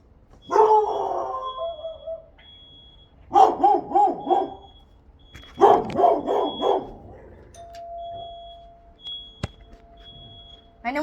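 A dog barks and howls from inside a house in repeated bursts, with pauses between them, and an electronic tone rings intermittently in the background.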